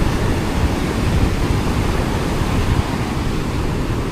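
Big ocean waves churned up by Typhoon Inday off Batangas, a loud continuous roar of surf and wind with no break in the wash.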